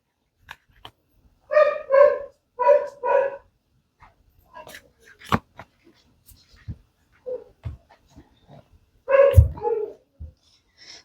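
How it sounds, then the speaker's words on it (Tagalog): Dogs barking in a quiet home, with two short bursts of rapid, close barks near the start and another burst later, separated by whimpers, panting and soft sounds. "Nag-iingay yung mga aso pag nagre-read ako."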